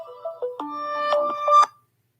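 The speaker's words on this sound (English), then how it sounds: "so my phone rings" A phone ringtone plays close and clear, a short melodic run of electronic notes that stops abruptly after about two seconds, with nothing else audible.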